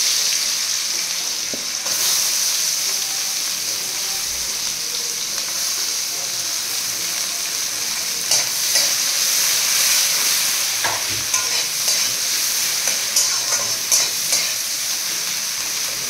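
Onions fry in oil with salt, turmeric and whole garam masala, giving a loud, continuous sizzle and hiss close up, with occasional spatula scrapes and stirring clicks over the last several seconds and no talking.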